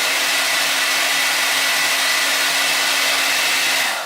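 Revlon 1875W hair dryer blowing on its turbo cool setting, a loud steady airy whoosh with a faint motor hum that holds evenly for about four seconds and then begins to fade.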